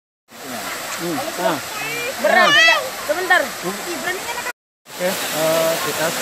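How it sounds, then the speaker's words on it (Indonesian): Teluk Sumbang, a tiered waterfall, gives a steady broadband rush of falling water close by while a person talks over it, with a brief cut in the sound near the end. "Kita sekarang berada di air terjun Teluk Sumbau."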